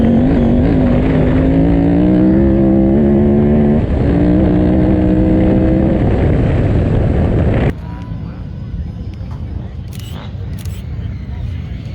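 KTM 950 Adventure motorcycle held at full throttle across a dry lake bed, a loud sustained engine roar with wind rush that cuts off abruptly partway through, leaving softer wind noise.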